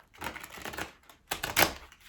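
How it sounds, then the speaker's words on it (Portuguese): Tarot cards with a rubbery finish being shuffled by hand, two quick bursts of riffling and slapping, the second louder and sharper, close up with no talking. "Estas cartas têm um acabamento assim um bocado emborrachado e não é nada fácil baralhar"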